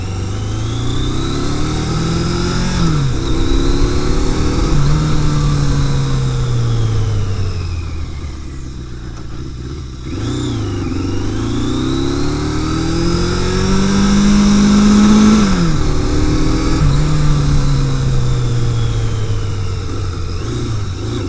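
A Yamaha XJ650 Turbo motorcycle, with cylinder number 1 misfiring, is ridden and revved loud and close, its engine note repeatedly rising and falling through gear changes, with a short dip off the throttle partway through.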